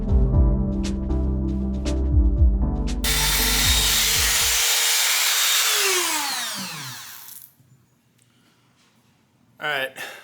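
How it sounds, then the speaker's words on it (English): A Dremel rotary tool grinds the rough finger holes of cast scrap-brass knuckles, a steady high whining grind for several seconds that fades to near silence, after a stretch of speech. "I'll take the Dremel and I'll speed this up and I'll speed through it and make these finger holes"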